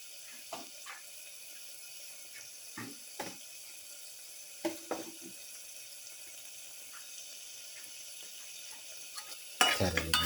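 Black pepper, chilli, turmeric and coriander powders are worked into raw Japanese quail by hand, with faint, scattered soft scrapes and squelches spaced across a quiet room, ending in a brief louder rustle.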